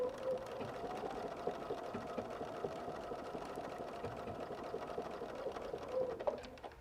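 A sewing machine backstitching several times at the top of a quilt pocket, a quiet, steady rapid mechanical whirr of stitching that runs continuously with slight variations in speed.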